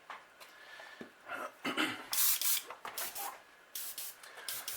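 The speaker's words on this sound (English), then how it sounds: "I always test spray my paint and my brush on the back of my booth" Airbrush spraying paint onto the back wall of a painting booth while finishing a Supreme Winter Gill fishing lure: short repeated hissing bursts of varying length, close and fairly loud, with brief pauses between them.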